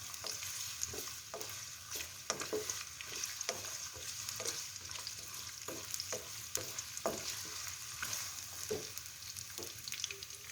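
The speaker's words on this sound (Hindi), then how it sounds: "प्याज बहुत ही अच्छी तरह सौते हो रहे हैं इसके अंदर" Onions sautéing in about half a cup of oil in a pan for a South Indian chicken karahi, a steady sizzle with regular stirring scrapes and clinks throughout, close and moderately loud.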